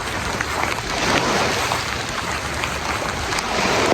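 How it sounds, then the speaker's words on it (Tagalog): Steady broadband rain hiss with scattered drops, fairly loud and continuous, heard outdoors in Masbate with no clear talk. "umuulan naman"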